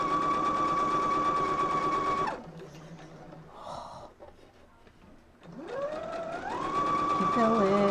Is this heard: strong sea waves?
no